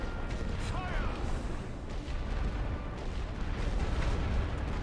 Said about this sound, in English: So a heavy artillery barrage burned through about half the hit points on that blimp.